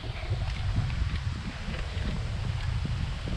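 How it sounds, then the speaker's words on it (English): Strong wind gusting outdoors in a quiet, nearly empty spot in Wisconsin, a steady low rumble buffeting the microphone throughout with no talk. "It's really windy."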